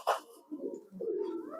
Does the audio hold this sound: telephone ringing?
no